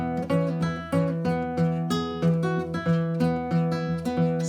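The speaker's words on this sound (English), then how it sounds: "she invented this very fun way of playing the guitar that sounds like a ragtime piano" Acoustic guitar played fingerstyle in a ragtime-piano-like manner, with a steady alternating bass under bright melody notes, near and clear, with no talking.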